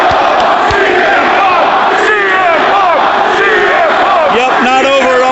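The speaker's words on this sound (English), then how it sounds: "This is the people in the crowd during Dark." Wrestling crowd during a dark match before the broadcast, a dense, loud roar of many voices chanting and yelling together, with whoops rising throughout.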